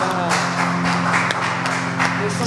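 A church congregation claps during a worship service, steady dense applause under a sustained musical hum and a voice over a loud sound system.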